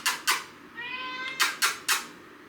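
A pet cat gives a drawn-out meow close by, set between several sharp bursts of brushing or rustling noise, with no talking.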